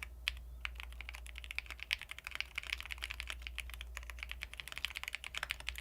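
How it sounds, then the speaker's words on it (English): Fingers clatter on a computer keyboard during coding practice, a fast irregular run of soft key clicks, fairly quiet and close, with no speech. "Man, I can't type that well."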